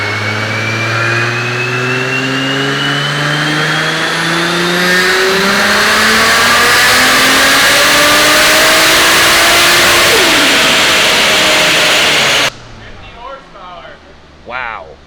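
A four-door Supra's engine revs hard through a dyno pull, its note climbing steadily and loudly for about twelve seconds before cutting off abruptly into near quiet.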